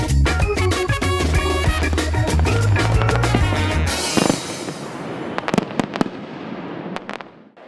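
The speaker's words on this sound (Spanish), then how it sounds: "Bienvenidos una noche más a la retransmisión del 19º Concurso Internacional de Fuegos Artificiales de Autor de San Fermín" Fireworks at the San Fermín international fireworks competition in Pamplona: dense continuous crackling and booming bursts that thin out into scattered sharp bangs and pops, loud and close.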